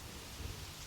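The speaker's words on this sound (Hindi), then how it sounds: "आज मैं तुम्हारे साथ इस बारिश में भीगना चाहती हूँ।" Rain falling with low thunder rumbling beneath it, a steady wash of noise in a romantic film scene, brief and fairly soft throughout.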